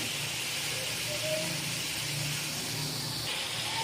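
Chicken fries in a karahi with a steady, soft hiss of sizzling oil that continues evenly and fairly quietly throughout.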